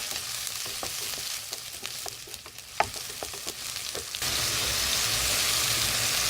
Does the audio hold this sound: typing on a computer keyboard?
no